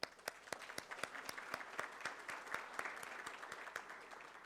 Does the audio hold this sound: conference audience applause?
yes